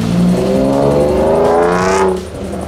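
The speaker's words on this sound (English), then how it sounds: "the MG Midget leaving" An MG Midget pulls away from a car meet, its engine note rising steadily as it accelerates, loud and fairly close before fading slightly at the end.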